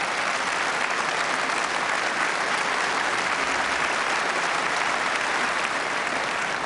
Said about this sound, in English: deserved applause there for Australian Eddie Charlton